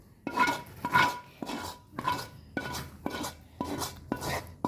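A utensil scrapes and clanks against a pan as caramel popcorn is mixed, in about seven rhythmic stirring strokes, close and fairly loud, with no talking.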